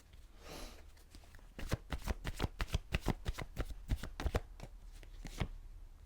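A deck of tarot cards is shuffled close by, with a soft rustle followed by a quick run of crisp, pattering card flicks and no talking.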